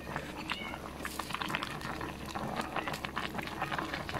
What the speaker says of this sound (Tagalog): After 30 to 45 seconds, kumulo na ulit siya at papatayin na natin po siya